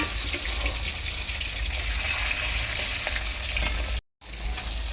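Rohu fish frying in oil gives off a loud, dense, continuous sizzle up close, broken only by a brief dropout near the end before resuming.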